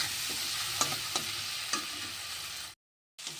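A fish head frying with cumin in a pan sizzles steadily and close, with a few sharp spatula scrapes from stirring, then a brief silent dropout before the sizzle resumes.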